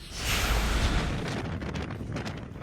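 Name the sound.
strong whistling wind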